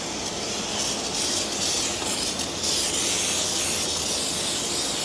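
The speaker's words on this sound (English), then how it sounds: "let's finish it off with some brake parts cleaner from Maximum Shiny" An aerosol can of brake parts cleaner sprays in a steady, continuous hiss over the oil pan and intake parts of a Jeep Cherokee Laredo 3.7 engine.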